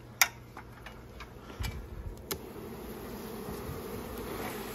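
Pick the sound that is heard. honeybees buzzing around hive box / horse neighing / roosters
honeybees buzzing around hive box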